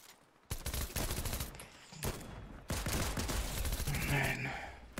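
Rapid Fortnite gunfire in a squads match comes in loud bursts with short gaps, while a player groans and swears over the shooting.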